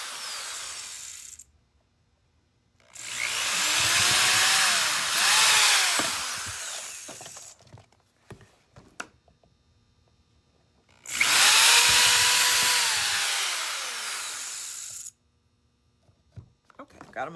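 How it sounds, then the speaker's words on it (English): A power drill drilling cured epoxy runs in two long bursts of whining, grinding drilling, separated by quiet pauses with small clicks and handling noises. "I'm gonna have the drill on,"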